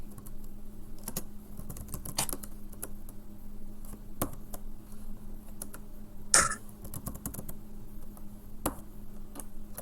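Quick, light keystrokes on a computer keyboard while writing a Python password generator, uneven clicks in short bursts, close and quiet, with one sharper tap in the middle.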